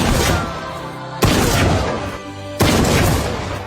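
Hunting rifle shots in a film scene: two loud, sharp blasts about a second and a half apart, each ringing out with a long rumbling decay over a noisy background.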